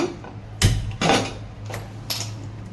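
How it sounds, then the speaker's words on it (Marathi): A kadai, an Indian wok, set down on a gas stove, giving a few distinct metallic clanks and knocks at irregular intervals, close by with no talk. "कढई गॅसवर ठेवू"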